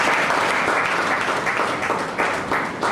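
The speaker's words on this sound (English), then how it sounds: "Another round of applause, please." A large audience at a welcome event for newly employed academic staff breaks into loud, sustained applause, a thick continuous wash of clapping with slight surges, close and filling the room.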